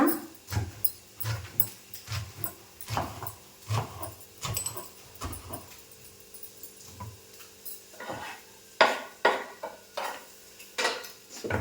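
Fenugreek leaves are chopped into small pieces on a board, a rhythmic series of fairly quiet knife taps, steady and irregular in turn, with a brief pause before the chopping picks up again.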